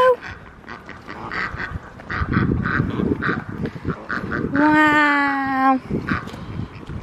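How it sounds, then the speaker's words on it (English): Ducks quacking near a pumpkin-picking patch, a loud run of nasal quacks in the middle rising over steady chatter from adults and someone talking throughout. "Duckies!"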